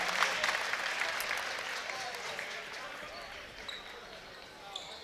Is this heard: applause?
yes